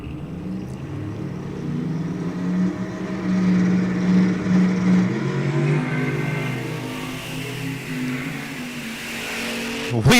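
A Camaro and a lime green Nova launch side by side in an eighth-mile heads-up drag race, their engines a loud, sustained roar that climbs in pitch as they accelerate away, with a sharp burst at the very end.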